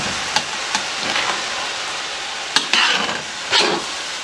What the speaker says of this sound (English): And just stir it and stir it and stir it with this sauce on.